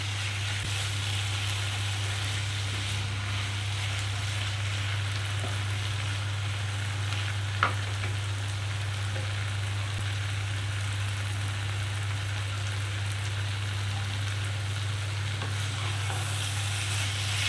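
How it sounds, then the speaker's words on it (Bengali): Malabar spinach mixed with mustard is stirred and fried to dry out its water, making a continuous close sizzle and light stirring sounds over a constant low hum, with no talking. "এইভাবে আমি দু মিনিট ধরে একটুখানি শুকিয়ে নেবো জলটা আর সেই সঙ্গে সর্ষেটা গোটা সবজিটার মধ্যে আমি মিশিয়ে নেবো"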